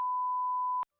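A single steady censor beep from a command-line soundboard, a clean loud electronic tone that holds for just under a second and then cuts off into silence.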